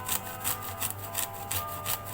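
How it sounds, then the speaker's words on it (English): Garlic being grated by hand, a close, quiet rasping scrape repeated in an even back-and-forth rhythm about every third of a second, with no talking. "Now we're done grating the garlic."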